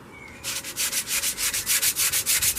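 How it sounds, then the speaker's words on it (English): A small hand sander fitted with clipped-in sandpaper rubs back and forth over a broken terracotta garden pot, giving about a dozen quick, even rasping strokes close by after a brief quiet start. "Another option is a little hand sander like this. With sandpaper clips in there."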